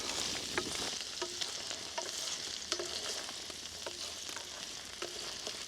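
Dumplings and onions fry in a pan with a steady hiss of sizzling oil, broken by repeated light scrapes and taps as the contents are stirred, with no talking.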